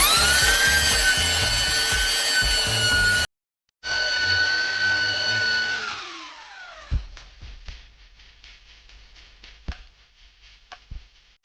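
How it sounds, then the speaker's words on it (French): Sanding on a BMW Z4 front spoiler gives a dense, loud abrasive rasp that cuts off briefly, resumes, winds down, and gives way to scattered light taps and scrapes. "Je ne vais pas filmer les 17 heures de ponçage, mais ça avance."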